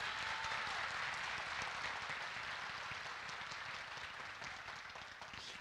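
A faint, distant audience at a pharmacy training talk gives sustained applause that slowly fades toward the end, with no voices.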